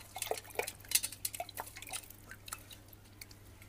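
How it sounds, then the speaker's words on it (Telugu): Sapota fruit is washed by hand in a bowl of water, giving soft close drips, splashes and wet squishes in an irregular quick series, fading toward the end. "ఇదిగండి ఒక్క కాయ కడిగాను చూడండి ఎంత డస్ట్ వచ్చిందనో"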